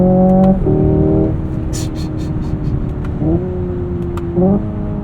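Hyundai Ioniq 5N electric car driving with simulated engine sound: a loud steady engine-like drone that drops in pitch at each gear shift, with several distinct shift steps over a few seconds and a brief whooshing burst in between.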